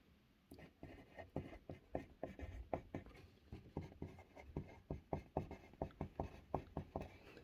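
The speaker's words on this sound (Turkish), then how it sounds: "Şimdi hemen isimleri yazıyorum." Names are handwritten on paper by a children's drawing maker, a close series of quick scratching pen strokes in an even rhythm with no talking.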